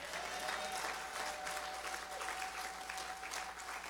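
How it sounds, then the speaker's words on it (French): Congregation at a French-language church service applauding and cheering, a dense, steady wash of clapping and voices sustained throughout, fairly distant and reverberant. "Je peux attendre un amen avec des acclamations."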